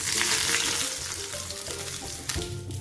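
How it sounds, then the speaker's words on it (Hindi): Hot oil tempering with spices crackles and sizzles loudly and continuously close by as it is poured onto raita, with a sharper hiss near the end as it hits the cool yogurt. "तो अब हम तड़का को रायते के ऊपर डाल देंगे"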